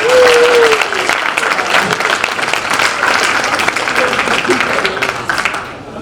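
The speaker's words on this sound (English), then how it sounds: "So let's have a round of applause for that." Loud, close applause fills a college athletics awards night, with a whistle-like tone at the start and faint crowd voices underneath, tapering off at the end.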